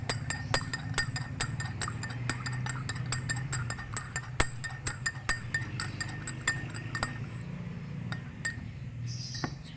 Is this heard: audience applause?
no